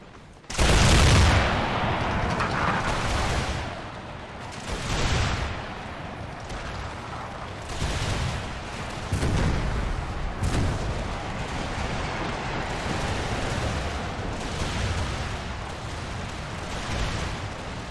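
Musket lines volleying in Empire Total War, repeated loud ragged crackling volleys every second or two, some booming, carrying on without talk.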